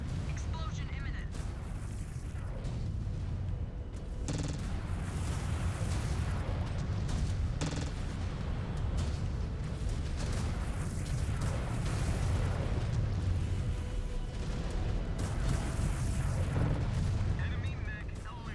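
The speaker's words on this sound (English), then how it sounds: "Exposed reactor. Explosion imminent." In the MechWarrior 5 Clans video game, a mech's exposed reactor explodes amid a dense, loud barrage of booming blasts and rumbling weapon fire, with a synthetic voice announcing over the battle.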